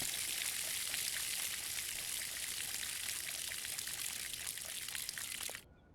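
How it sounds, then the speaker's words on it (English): Water pouring steadily from a can onto plants in the video game Schedule I, a continuous close trickling stream that runs for several seconds and then cuts off. "we're going to have to water the plants one more time before we go to bed"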